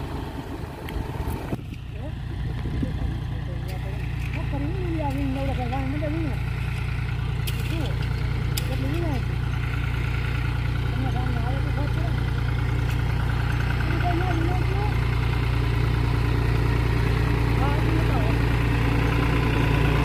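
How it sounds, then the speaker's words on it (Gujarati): A John Deere tractor idles on a garlic farm, its engine a loud, steady low drone throughout, with someone talking over it. "જોન ડિયર ટ્રેક્ટર છે અમારી પાસે"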